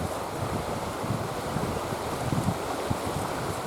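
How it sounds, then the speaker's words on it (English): Strong wind buffets the microphone beside a river near a rocky cave, a steady roaring rush with low rumbling gusts that continues throughout, with no voices. "Sorry about the wind, guys."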